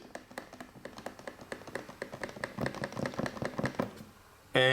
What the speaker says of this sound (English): usually the button clicks like this